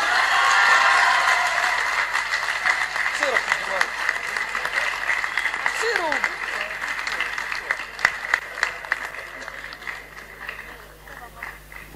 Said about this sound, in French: Sous un tonnerre d'applaudissements, je vous invite à appeler notre deuxième maman